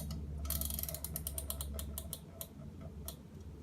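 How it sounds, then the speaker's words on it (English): A kitchen oven timer being wound after the door shuts on a pecan pie, giving a run of close, rapid mechanical ratcheting clicks that slows into a few separate ticks. "Shut the oven door, and we set the timer once again."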